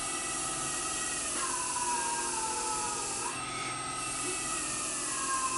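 An electric motor on a test rig, run with field weakening, whines steadily while being braked, its tones sliding downward in pitch a couple of times as it slows under load.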